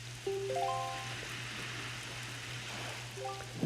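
Steady rain patters over a dark, cursed island in The Legend of Zelda: The Wind Waker, a continuous wash of falling water joined by brief melodic chimes near the start and end.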